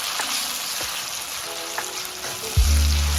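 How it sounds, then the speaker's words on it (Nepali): Tomatoes sizzle and crackle steadily in a hot pan, close up, with a brief clatter near the end. "अब म गोलभेडा राखेर यसलाई एकछिन भुट्छु"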